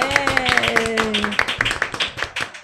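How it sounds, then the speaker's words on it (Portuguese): An audience at the Tearteiro event, recording an autism-themed podcast, claps in scattered, sharp handclaps close by, overlapping a voice and some tonal sound at first before the clapping carries on. "Uma salva de palmas"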